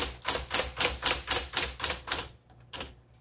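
A 1968 Smith Corona Electra 120 electric typewriter types in a steady run of nine loud, close, crisp keystrikes, pauses, then lands one last strike.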